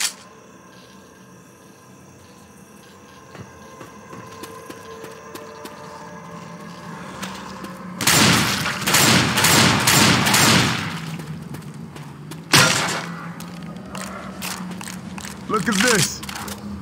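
Rifle gunfire in a snowy forest video game, a burst of loud rapid shots followed by a second sharp volley, with a quieter stretch of ambient game sound beforehand.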